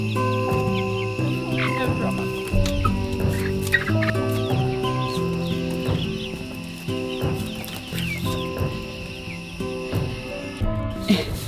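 Baby chickens cluck and peep inside a walk-in chicken coop at night, many small overlapping calls scattered across the whole stretch at close range, over a steady hum.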